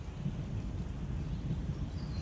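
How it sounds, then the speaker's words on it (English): A low, continuous rumble of distant thunder mixed with steady rain, with no distinct crack. "Thunder."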